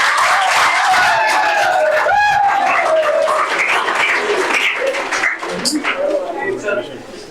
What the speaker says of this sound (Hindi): तो प्लीज 2 तालियां करके बजा दें।